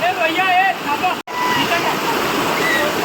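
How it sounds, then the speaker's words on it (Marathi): Waterfall at Umbarde near Nashik, in the Sahyadri hills during the monsoon, fills the air with a steady, close, broadband roar of falling water. A faint voice drifts over it early on, and there is a brief dropout partway through. "इथं सुंदर असं वॉटरफॉल आहे"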